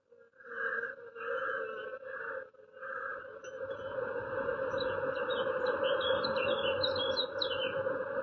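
Birds singing outdoors, with a steady chorus of chirps and tweets over a droning background that swells after a few brief pauses near the start.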